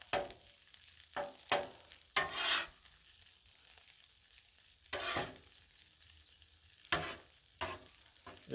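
Beans and beef for a crunchwrap being stirred and scraped on a Blackstone griddle, with repeated bursts of spatula scraping and light sizzling spaced by quieter moments, close by.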